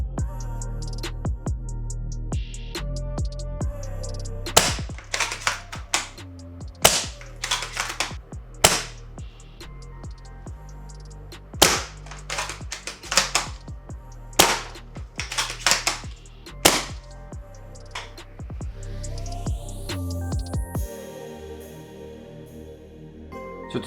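An SSG96 MK1 airsoft sniper rifle fires outdoors with sharp, snappy cracks in spaced groups, separated by quieter mechanical clicks and clacks of the bolt being cycled between shots.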